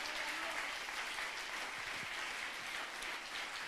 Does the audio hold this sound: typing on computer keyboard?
no